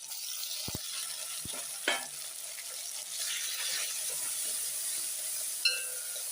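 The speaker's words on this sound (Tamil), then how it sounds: "நல்லா வெங்காயம் வதங்கிட்டுருக்கு இப்போ வந்து நம்ம வந்து தக்காளி பழம் சேர்த்துடலாம்" Onions and tomato sauté in a pan with a constant soft sizzle, broken by a few sharp utensil clinks and stirring scrapes; no talking.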